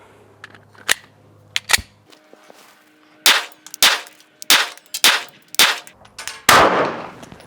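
Glock 42 pistol firing Fiocchi 90 grain jacketed hollow points at a range: two separate sharp shots, then a quick string of about six sharp, loud cracks at a steady pace, with no talking.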